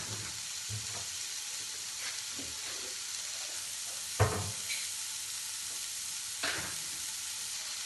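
Sliced onions and three green chillies frying in a pan for a mixed vegetable curry, a faint steady sizzle with a few soft stirring scrapes and clinks, no talking.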